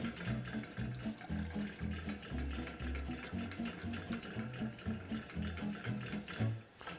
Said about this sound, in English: And now we're just going to continue whisking it until it comes up to a boil.